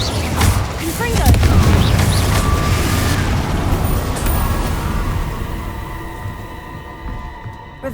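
A Confringo spell explosion in Hogwarts Legacy booms loudly at the start, and its rumble slowly fades over several seconds.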